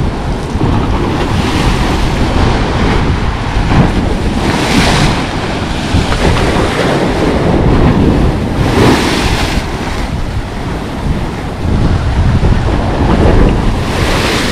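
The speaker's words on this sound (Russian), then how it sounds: "вода чистая, поэтому волны белые" Sea waves breaking on a Black Sea beach at Lazarevskoye, a loud, continuous roar of surf with repeated swells and wind buffeting the microphone, no voices heard.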